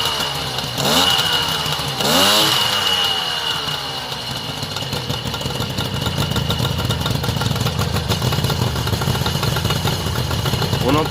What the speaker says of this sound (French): On entend bien le bruit de ce tricylindre là.